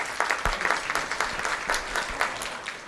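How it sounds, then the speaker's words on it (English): An audience at a keynote talk claps steadily for a few seconds, a moderately loud wash of dense hand claps with no voices over it. "I want you to give yourselves a round of applause on that one."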